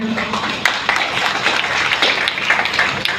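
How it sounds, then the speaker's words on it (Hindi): A crowd at a social-cause community meeting claps together in a thick, continuous burst, loud and close, with sharper individual claps poking out of the wash. "हाँ, ताली बजाएं"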